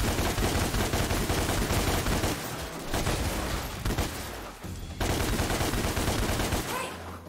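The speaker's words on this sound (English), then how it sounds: "I'm gonna keep shooting this guy in the head" Rapid, sustained gunfire in the video game DmC: Devil May Cry, dense bursts of shots repeating almost continuously with brief pauses, loud and close, with bits of game sound mixed in.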